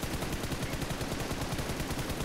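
Dense, continuous rapid gunfire from the battle royale shooter PUBG Mobile, loud and sustained throughout with no talk, a steady rattling burst filling the whole moment.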